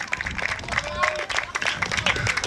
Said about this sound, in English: So give Rose a round of applause